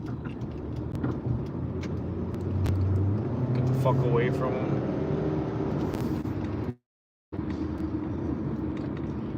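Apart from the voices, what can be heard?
road traffic behind trucks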